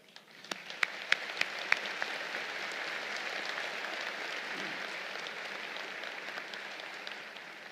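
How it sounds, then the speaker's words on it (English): A crowd at a military cadet commencement ceremony breaks into sustained applause, with a few sharp, close claps at first, then a dense, steady roar of clapping. "Please join me in welcoming General Walters"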